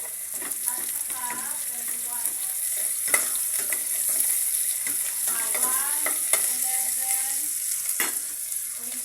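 Bulad, dried fish, frying in a pan with a busy crackling sizzle and scraping stirs, while a voice talks intermittently over the cooking.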